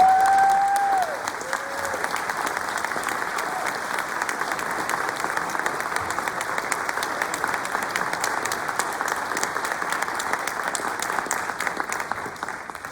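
A lecture audience claps to welcome a priest to the stage for an evening talk, with dense, steady applause that carries on throughout and thins slightly toward the end.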